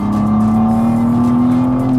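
A 2023 BMW M2 downshifts and its engine rises into a loud, rich, close tone that climbs slightly in pitch and holds steady for a couple of seconds.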